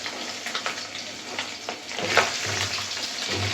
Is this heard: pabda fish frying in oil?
yes